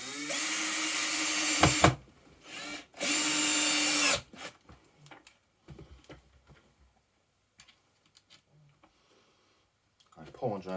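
A power drill driving screws into wood while building a creeper, two long loud whirring bursts near the start, then quiet clicks and handling noises with occasional voice.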